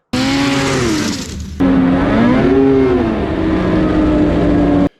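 2022 Lynx Rave RE snowmobile riding in Derby, Vermont, its engine droning steadily and loud up close, the pitch rising and falling with throttle changes and a brief dip before the sound cuts off.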